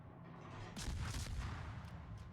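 Secondary guns on the Japanese destroyer Umikaze fire in World of Warships, a burst of several quick, sharp reports over low rumble, followed by a couple of fainter shots at a moderate distance.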